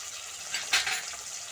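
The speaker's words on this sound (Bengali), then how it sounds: "পেঁয়াজ আর রসুন একসঙ্গে দিয়ে একটু ভাজা ভাজা করে নেব।" Onion and garlic paste sizzles in hot oil in a pan for a Bengali prawn malai curry, a steady close frying hiss with a brief louder burst of spatter partway through.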